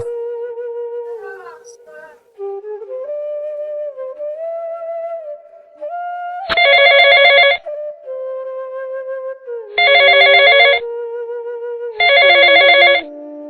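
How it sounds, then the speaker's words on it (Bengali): A phone rings in three loud bursts with pauses between them, over a steady electronic melody tone. "সুডুর একটা ফোন দে"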